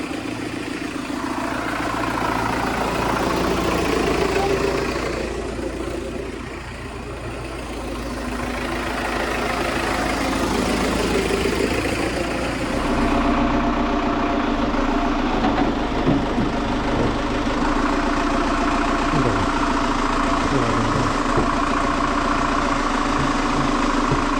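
An MTZ 892 tractor fitted with a front loader idles steadily, a loud continuous diesel rumble with a slight dip in level partway through and no voices.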